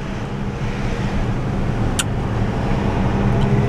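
Heard from inside a moving car, a steady loud engine and road rumble holds constant, with one brief faint high chirp partway through and no speech.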